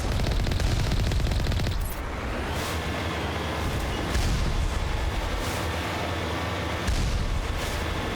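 Mass Effect 1 turret fire: a loud, dense, unbroken barrage of rapid shots with heavy rumble, carrying on steadily throughout with no voices.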